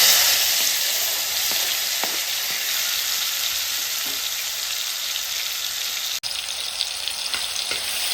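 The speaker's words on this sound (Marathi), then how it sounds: "मी 1 टोमॅटो बारीक चिरून घेतलाय, तो आपण ह्यामध्ये टाकूया।" Finely chopped tomato frying in a hot pan with oil and a pinch of asafoetida, a steady close sizzle running throughout, with faint stirring clicks and one brief dropout near the end.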